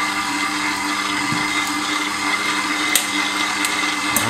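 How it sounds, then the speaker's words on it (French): A stand mixer running at low speed as it mixes dough for homemade chocolate milk bread rolls, a steady close motor whir with a few faint clinks. "je referme mon batteur. Je vais commencer à le mettre en route tout doucement"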